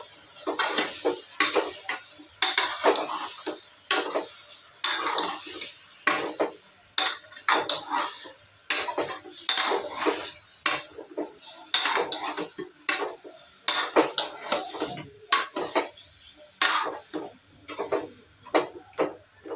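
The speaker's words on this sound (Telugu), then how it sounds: "వేసిన ఉప్పు పసుపు ఒకసారి అయితే బాగా కలిపేస్తా మటన్ పట్టేలాగా" Mutton is stirred with salt and turmeric in a pot, making a continuous run of scraping and clinking strokes from a spoon against metal in a steady rhythm, close and moderately loud, with no voices.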